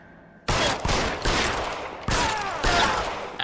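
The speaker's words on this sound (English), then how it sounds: "Actual shootout." Gunfire in a shootout in the video game LA Noire: several loud bursts of rapid shots in quick succession, each with a sharp onset and a ringing tail, with no talk over them.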